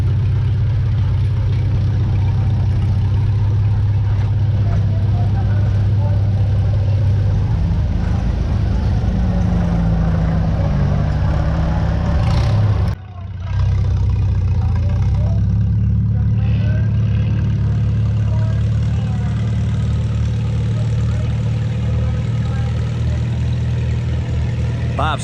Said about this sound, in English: Tractor started pulling sideways.